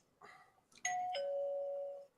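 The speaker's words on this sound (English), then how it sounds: "Who just got their doorbell ring?" An electronic doorbell chimes a clear two-tone ding-dong, the second tone ringing out and fading after about a second, alone in a quiet room.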